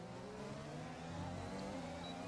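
Formula 1 race car engines roaring in the F1 2021 video game, a steady loud high-revving drone with layered harmonics as cars battle closely through a corner, no talking.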